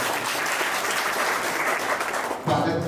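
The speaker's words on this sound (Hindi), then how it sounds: "एक जोरदार ताली से हमारे अतिथियों का" Sustained crowd applause welcoming guests at an event, steady and full, shifting in tone near the end.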